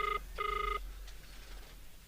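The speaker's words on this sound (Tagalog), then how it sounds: "Itay pa'y nga agriring ti cellphone na." A cellphone rings twice in quick electronic trills, the second burst longer, then gives way to quiet room tone.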